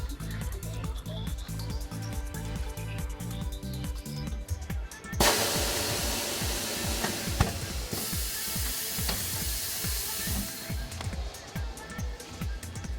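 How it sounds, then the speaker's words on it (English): A TWIN BUSCH TW X-93 tyre changer's bead breaker works a tyre loose from its rim, giving a rhythmic mechanical clatter, then a loud pneumatic hiss and rattle that runs several seconds, close by, under a narrator's voice. "The tire is loosened from the rim with the bead breaker."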